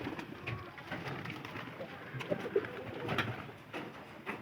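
Pet pigeons coo softly at a fair distance, low murmuring calls scattered through steady background noise, with no one speaking over them.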